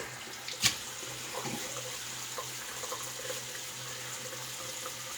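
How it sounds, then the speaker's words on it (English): Warm water runs steadily into a shaving bowl in a quiet room while preparing for a wet shave, with a brief sharp knock near the start and a low constant hum underneath. "I got warm water in my bowl"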